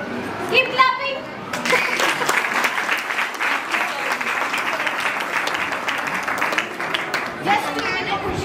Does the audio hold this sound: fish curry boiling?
no